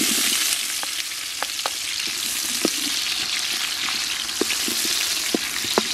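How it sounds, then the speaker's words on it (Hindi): Onions fry in hot ghee in a pan, giving a steady, close sizzle with scattered sharp pops and crackles throughout, no voices over it. "अभी हम प्याज को फ्राई कर लेंगे और प्याज को नरम होने तक हम फ्राई करेंगे"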